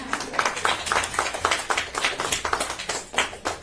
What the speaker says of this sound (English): Feel free to applaud this group up here, right?